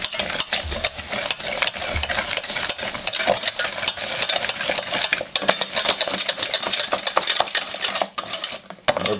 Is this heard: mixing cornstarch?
yes